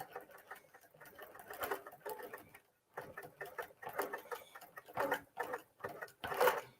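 A sewing machine stitches down a quilt flower in rapid, whirring, patter-like runs that stop briefly and start again, close and moderately quiet, with no speech.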